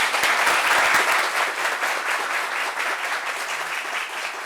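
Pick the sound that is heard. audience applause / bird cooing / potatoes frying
audience applause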